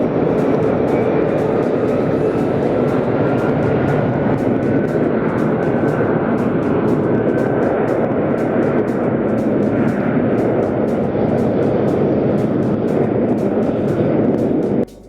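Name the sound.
Boeing 757 jet aircraft engines in Las Vegas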